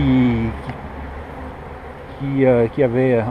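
Honeybees buzzing at an opened beehive during a spring hive inspection, a steady low hum running beneath someone speaking French close by.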